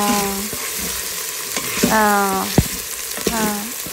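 Paneer frying in a pan with kasuri methi, coriander, garam masala, chilli powder, black pepper, garlic powder and capsicum, a steady sizzle broken by a few sharp stirring clanks, close and alone.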